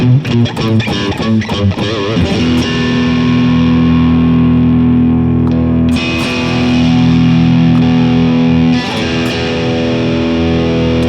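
Electric guitar with both pickups in coil-split mode, played through a distorted amp: a rapid strummed flurry, then long sustained ringing chords, restruck twice, loud and continuous with no voice.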